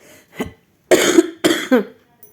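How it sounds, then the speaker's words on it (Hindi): A woman with a heavy cough coughs at close range: one soft hack, then two loud, harsh bursts and a shorter throaty cough, each separated by brief pauses. "खांसी बहुत ज़्यादा हो रखी है।"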